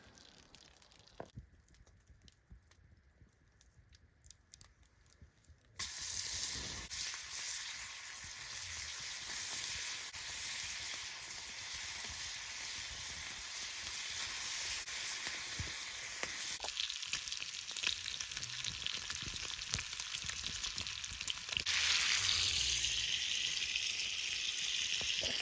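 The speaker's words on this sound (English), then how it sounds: "the smell of his bacon on the fire will probably wake him up pretty quick" Bacon sizzles over a campfire on a Montana winter overnight, a steady broadband crackle and hiss that starts abruptly after a quiet opening and continues loudly and evenly to the end, with no talking.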